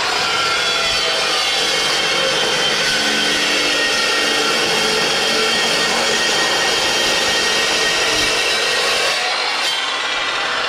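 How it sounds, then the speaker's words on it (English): An angle grinder works steel for a custom-built flatbed on a Ford E-450 van, a loud, harsh, continuous grinding roar that holds steady throughout with no pauses or voices. "So I probably spent the past 45 minutes just grinding the metal"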